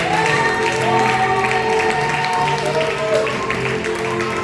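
A church congregation applauds and cheers in a steady, dense wash of clapping from a large crowd, with a voice faintly talking beneath it.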